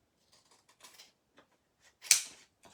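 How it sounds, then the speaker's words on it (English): Big scissors cutting paper scraps at a craft desk, heard as sparse, quiet snips and rustles, with one sharper, louder crunchy cut near the end. "And I'm just going to go for it with my big scissors."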